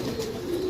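Pigeon cooing at close range, a steady low throaty coo held through under a faint background hiss, alone without talk.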